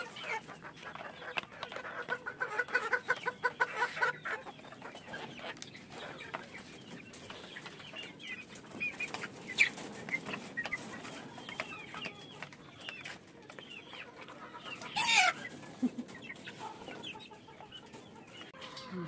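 Chickens cluck softly and intermittently at close range while pecking at winged termites, with scattered scratching and rustling noises and no talking.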